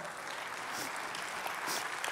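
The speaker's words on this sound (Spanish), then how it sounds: "Un fuerte aplauso a Fernando." A church congregation claps steadily in sustained applause for Fernando, a dense even patter of many hands filling the room with no voices on top.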